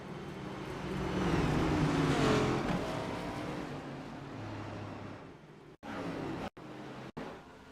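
A race car engine in a NASCAR-style Next Gen sim race at Las Vegas roars loud and steady, swelling to a peak early and then holding a droning whine before cutting out in a few abrupt gaps near the end.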